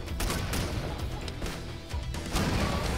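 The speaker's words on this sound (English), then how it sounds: "Lots of explosions." Explosions from the PC video game Octogeddon come as a rapid series of loud booms and crashes, layered closely with short bursts over about three seconds of dense game sound.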